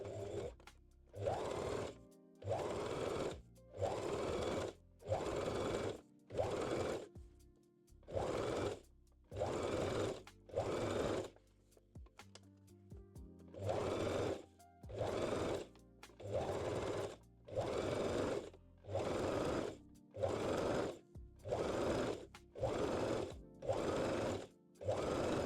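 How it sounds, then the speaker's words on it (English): A sewing machine stitches elastic onto the decorative lace edge of a thong in repeated short bursts with brief pauses between, close and clear, with no talking. "try to sew as close to the decorative edge as you can"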